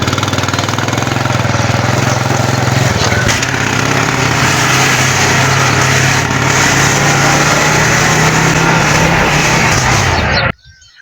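Motorcycle engine running steadily at close range, a loud continuous buzzing drone with a rhythmic low pulse that holds for about ten seconds before cutting off abruptly.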